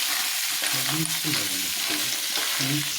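Clams (maruvayi) frying in a pan with onion and chilli for a coastal-style sukka, stirred with repeated scraping strokes over a steady close sizzle.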